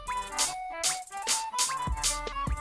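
Hi-hat samples from a producer's own sample pack in an FL Studio beat, playing as a repeating pattern of bright, crisp hits over a sustained tone and low bass, loud and close with no voices.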